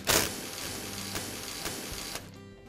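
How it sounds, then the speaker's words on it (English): Screws come out of the switch housing on a Black and Decker lawn mower: a steady mechanical whir with a few sharp clicks, stopping abruptly near the end. "Now I'll remove the other five screws that secure the two halves of the housing together."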